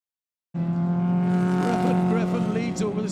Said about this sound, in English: Just listen to the full revs of that big American lusty V8